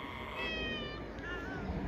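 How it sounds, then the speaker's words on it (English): A cat meows in a drawn-out, wavering call, followed by a second shorter meow, moderately close over steady low background noise. "No, that was Grandma Cat."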